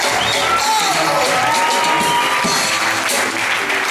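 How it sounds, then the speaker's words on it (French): An audience at a gospel choir concert acclaims a preacher with loud, continuous applause mixed with cheering and whoops, a full, sustained crowd roar filling the whole stretch. "Est-ce qu'on peut donner l'acclamation vivante pour le serviteur de Dieu?"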